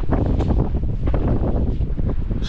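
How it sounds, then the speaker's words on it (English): Wind blows outdoors in strong, continuous buffeting gusts that batter the microphone, rumbling and loud throughout, with no voices. "It's windy today."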